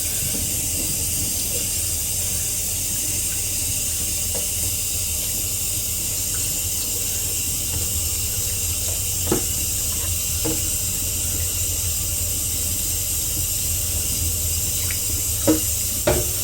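Water runs steadily in a continuous hiss while a vinyl record is rinsed, with a few faint clicks and knocks of handling scattered through it and no voices.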